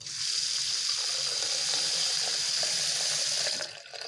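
Water gushes steadily from a household tap after a pressure reducer and drain valve were replaced, a strong, even, close rush that holds throughout before easing slightly at the very end.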